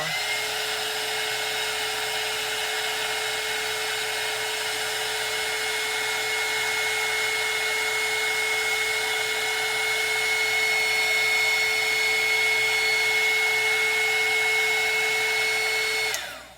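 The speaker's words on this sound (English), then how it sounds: "I'm just really loving this heat gun." A heat gun dries paint on a reborn doll, running as a loud, unbroken whirring blow with a steady tonal hum for about sixteen seconds before stopping abruptly.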